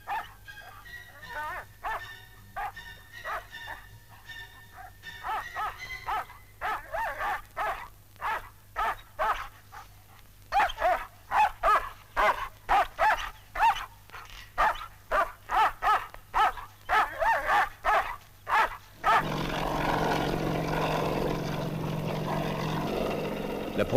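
A French military dog barks repeatedly while tracking a scent trail during a 1960s army exercise, sharp barks in irregular bursts, with a steady motor-like hum underneath and a broad noisy rush near the end.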